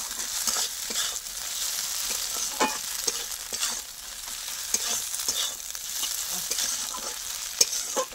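Spices with sugar and salt being stirred in a pan, a steady frying sizzle broken by repeated scraping strokes of a spoon, close and fairly loud, with no talking.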